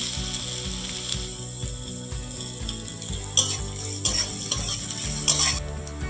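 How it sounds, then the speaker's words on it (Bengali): Chopped onion fries in mustard oil for a potato filling for bread pakora, a soft sizzle with occasional stirring clicks running under steady background music. "প্রথমে দিয়ে দেবো সরিষার তেল এরপরে দিয়ে দেবো পেঁয়াজ কুচি"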